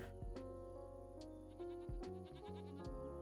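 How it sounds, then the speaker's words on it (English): Goats bleat in the Farming Simulator 25 video game, several wavering cries following one another over a low steady hum, fairly quiet overall. "I keep calling them sheep. I don't know why. They're goats."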